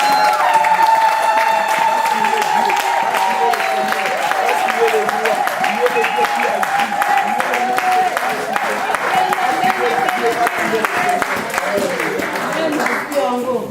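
Church congregation at a Sunday service cheering and applauding, a dense continuous wash of clapping and shouts that stays loud throughout, with voices calling out over it.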